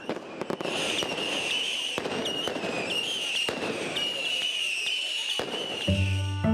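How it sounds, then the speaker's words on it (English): Fireworks at a midnight Greek Orthodox Easter celebration crack and pop in rapid irregular bursts, with several sharp louder bangs over a continuous crackle and a brief tonal sound at the end. "When midnight strikes, fireworks light up the sky"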